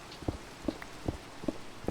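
Rain falling in a Minecraft game world at night, a soft steady patter with a faint regular ticking of drops repeating about every 0.4 seconds throughout, with no voices.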